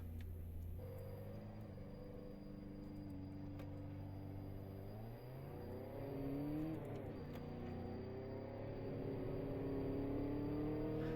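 A purple Subaru driving in the video game DayZ gives a steady engine rumble that climbs through revs with gear changes, continuous and close without voices.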